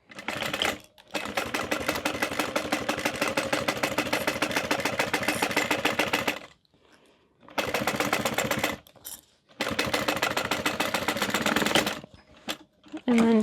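Sewing machine stitching crossbody bag pieces together, running in long steady bursts of rapid even needle clatter with brief pauses between runs, with no voices.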